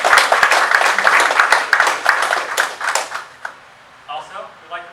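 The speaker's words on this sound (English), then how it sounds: "Let's give them a round of applause" A graduation audience at the Medical Education Training Campus gives a round of applause for course instructors and support staff: dense, loud clapping for over three seconds that thins out and fades, followed by brief talk.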